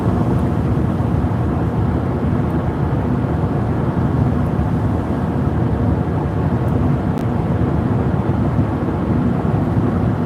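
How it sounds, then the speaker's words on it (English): Thunder from a storm with a shelf cloud, a steady heavy low rumble rolling on without break for the whole stretch, loud and close with a windy roar. "Oh yeah, Thunder can definitely shake the house."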